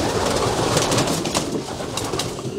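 Racing pigeons in a loft give soft, continuous cooing and fluttering amid a dense murmur of many birds close by, with no voices.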